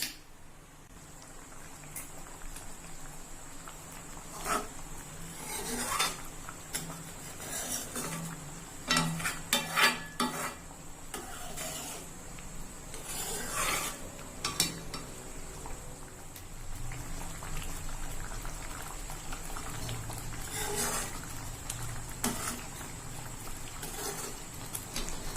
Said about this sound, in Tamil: இது கொஞ்சம் கொதிக்கட்டும்.